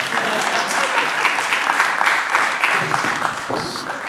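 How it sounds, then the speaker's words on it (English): Audience applause from a live tour crowd, steady clapping at full volume filling the room for about four seconds without a break. "Give me a round of applause."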